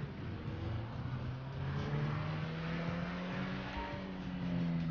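Car engine droning steadily while driving in GTA V, a continuous mid-loud hum with slowly shifting pitch as the vehicle speeds along, no voices over it.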